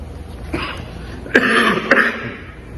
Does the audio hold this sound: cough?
yes